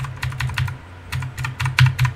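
Rapid bursts of computer keyboard and mouse clicking during a Fortnite game, close and fairly loud, coming in uneven clusters with brief pauses between them, with no talking.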